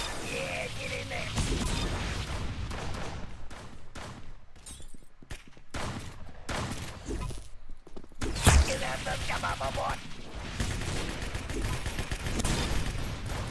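Rapid, dense bursts of gunfire in a Roblox shooter, loud and close, with sharp shots stacked into volleys through most of the stretch while a player talks over it.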